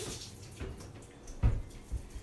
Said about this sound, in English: So just give them a good strain, let all that water come out